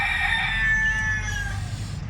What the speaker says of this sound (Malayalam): ഇവിടെ എങ്ങനെ ഉണ്ട് കേട്ടോ ഒരു കോഴി